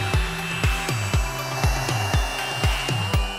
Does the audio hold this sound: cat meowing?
no